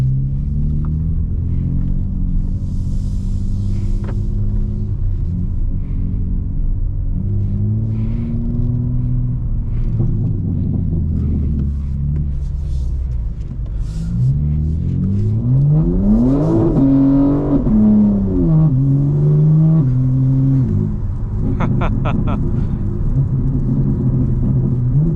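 A 2025 BMW M4 Competition xDrive in track mode heard from inside: a steady loud engine drone, shifting through gears, then a hard surge of rising and falling revs as it pulls away.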